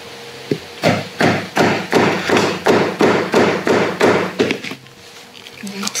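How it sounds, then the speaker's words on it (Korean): Rubber mallet strikes a leather punch set upright on a thick leather cardholder piece, about a dozen steady, evenly spaced thuds, loud and close, with a few softer taps at the end. "고무망치로"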